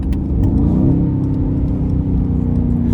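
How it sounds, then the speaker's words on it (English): A 2019 Mercedes-Benz C63 S AMG Brabus 900 engine revs loudly and steadily through a downshift, its deep engine note rising and falling close by with no talk over it. "And I love downshifting."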